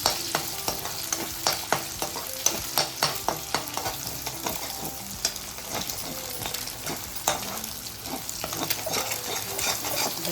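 Eggs poured into hot oil and stirred for homemade chicken noodles, giving a steady close sizzle broken by repeated spatula scrapes and taps against the pan, with no talking.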